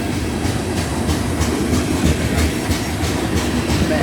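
A CSX freight train passes close by, with a continuous heavy rumble and rhythmic clickety-clack of the wagon wheels over the rails, loud and steady.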